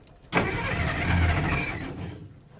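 An old car engine that sat for 30 years revs up abruptly, a rough loud roar with uneven sputtering that holds for about a second and a half then fades, close by with no talk.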